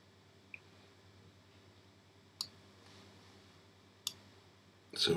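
A computer mouse clicks during photo editing, giving four quiet, isolated clicks spaced a second or two apart against a faint steady background hum, with the last click slightly louder.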